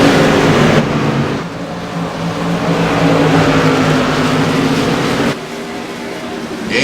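Modified stock cars at Southern National Motorsports Park roar together after the green flag, a loud continuous multi-engine drone with rising and falling pitches as the pack passes close, briefly dipping before swelling again.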